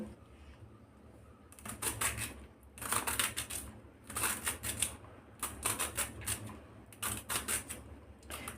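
A knife scrapes the skin off a bitter gourd in quick bursts of short, crisp strokes, close and fairly quiet, with short pauses between the runs.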